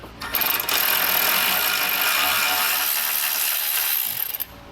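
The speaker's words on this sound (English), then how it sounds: "you're going to remove the bolt that we used as the holding point for our hitch" Steady, loud mechanical ratcheting while a bolt is removed during installation of a hidden trailer hitch receiver on a 2016 Volkswagen, running continuously for about four seconds without speech.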